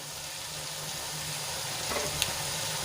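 Onions frying in oil with green chili and ginger paste for a green chickpea and paneer curry give a steady, close sizzle throughout, with a brief clink of stirring near the end.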